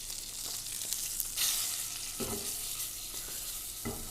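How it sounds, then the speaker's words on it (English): Meat sizzles and fries steadily in a hot pan, a continuous crackling hiss with a few louder bursts as it is stirred or moved, no voices. "So the meat, you fry it"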